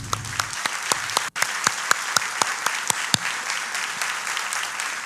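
Audience applause rings out for a church lecture team, a steady rattle of many hands clapping with sharper individual claps standing out, continuing unbroken with no voices.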